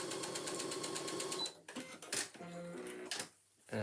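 A sewing machine stitches a handbag in rapid rhythmic bursts that stop and start, the needle's clatter loud and close, with short pauses and a final run before silence.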